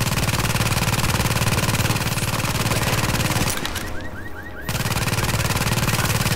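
An automated turret in a video game fires a fast, loud, evenly spaced stream of shots, pauses briefly for about a second, then resumes the same rapid rhythm.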